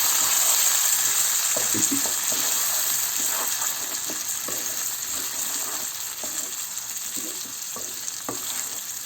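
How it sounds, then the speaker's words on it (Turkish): Rice for pilaf sizzles and fries in a pan while a utensil stirs it, producing scattered scraping clicks over a steady hiss. "Bunu iyice karıştıracağız. Kızartacağız. Tamamen kızartacağız."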